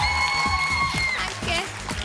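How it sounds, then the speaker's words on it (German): Audience applause fills a hall at a children's singing contest, a dense, steady patter of many hands with a whoop and a bright cheer rising above it for the full two seconds. "Applaus bitte für Saika!"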